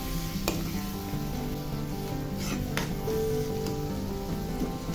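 Mashed tomatoes stirred into onions frying in a pan, continuous sizzling with a few sharp scrapes of a spoon against the pan, close and steady, no talking.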